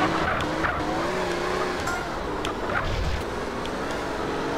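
Race car tires skidding and squealing in GTA: San Andreas, a continuous engine roar with drawn-out screeching tones over a steady, loud bed of car noise.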